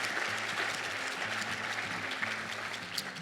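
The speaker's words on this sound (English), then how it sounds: "Let's please have another round of applause for all the category winners," An audience at a business award presentation applauds category winners, a steady wash of clapping from many hands, continuous and moderately loud with a low musical tone underneath.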